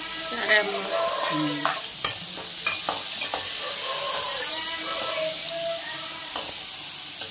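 Onion pieces, green chilli and curry leaves fry in hot oil for Andhra kanda pulusu, a steady close sizzle with scraping stir strokes and a few clatters, no voices.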